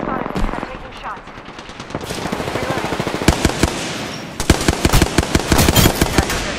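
Rapid automatic gunfire in the Apex Legends battle royale game crackles in dense bursts, sparse at first and then in long volleys of sharp, loud shots near the end.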